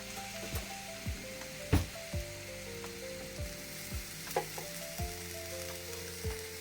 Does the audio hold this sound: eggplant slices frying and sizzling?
yes